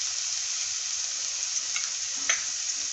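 Spice paste fries in a pan with a steady close hissing sizzle, broken by a couple of faint light stirring taps.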